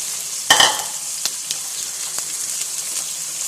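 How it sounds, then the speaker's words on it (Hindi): Chicken goes into browned onions in a hot pan for a Lahori-style chicken jalfrezi, setting off a sudden loud sizzle that settles into steady frying with a few faint stirring clinks. "ये प्याज हमारा ब्राउन हो गया। इतना ब्राउन करने के बाद अब इसके अंदर हम शामिल कर देंगे चिकन"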